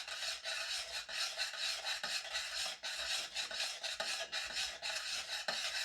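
A spoon scrapes steadily as one cup of white mini marshmallows is stirred into a snowball cookie mixture. The close, rasping strokes repeat in a rhythm, with no voices.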